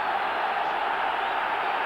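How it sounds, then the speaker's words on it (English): Football stadium crowd at a 1993 Champions League match between Rangers and Club Brugge, a steady distant roar of many voices cheering, even and sustained with no breaks. "So the crowd getting right behind them."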